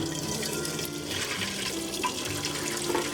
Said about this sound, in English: next I'm gonna strain the broth into another pot.